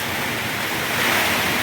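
Powerful Signal #4 typhoon wind from Typhoon Tino in Antique, roaring as a steady, loud broadband rush with gusts swelling near the end, buffeting the microphone, no voices.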